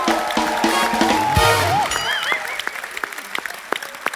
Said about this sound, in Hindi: एक बार बेगम जान की पूरी स्टार कास्ट के लिए जोरदार तालियां।